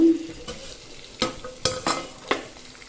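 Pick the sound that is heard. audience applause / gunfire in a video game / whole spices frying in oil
whole spices frying in oil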